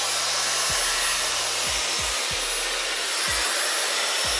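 A Dyson Airwrap runs on its lowest airflow setting with the highest heat, giving a steady close broadband rush of air, broken by a few low thumps and handling knocks, with no talking.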